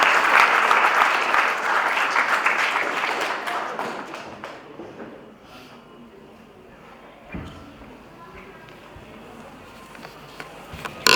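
Audience applause at a class 10 school farewell programme, a loud, dense burst of clapping from many hands that gradually thins out and fades into scattered claps and quiet room noise.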